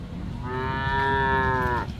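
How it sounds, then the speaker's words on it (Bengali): A Friesian cow at the Ambari cattle market in Dinajpur lets out a single long, close, rising moo over the low murmur of the busy market. "বিশাল হাইটের গরু আছে"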